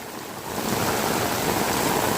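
A village stream runs high after a heavy downpour, with a continuous rushing of water heard close by. The noise is broad and even, and there is no talking.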